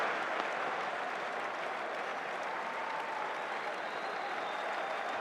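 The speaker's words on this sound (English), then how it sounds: "Listen to this crowd now." A large cricket crowd at the 2005 England vs Australia NatWest final cheers and applauds after a boundary, a dense, sustained roar of clapping filling the whole stretch at steady loudness.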